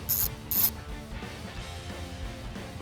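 Close, loud ratchet clicking while tightening a part during an oil change and spark plug job on a BMW 325Ci convertible, with two sharp bursts of quick clicks followed by a fainter mechanical hum.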